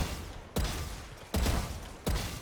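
Three sharp, loud gunshot bursts at even intervals ring out as a player strafes and fires at practice bots in the video game Valorant, each crack trailing into a short reverberant tail.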